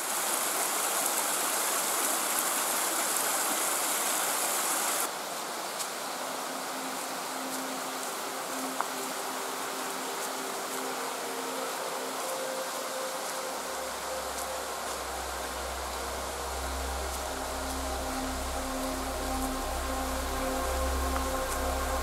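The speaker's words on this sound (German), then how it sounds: "Links rauscht der Bach." A forest brook rushes over mossy stones in the Bavarian Forest, a steady broad roar of flowing water, joined partway through by a low rumbling and faint tonal hum beneath the rush.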